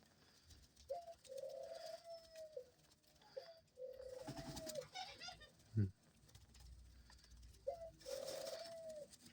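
Doves coo in soft, repeated low calls with pauses between them. The sound is quiet against faint background noise, with a brief rustle or flutter near the middle.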